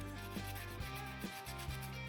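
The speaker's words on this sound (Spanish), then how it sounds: "Solo había que lijarlo un poquito" A leftover metal clamp piece, meant for a model diorama, is hand-sanded in steady back-and-forth strokes, a close, even rasping with a rhythmic pulse about twice a second and no voices.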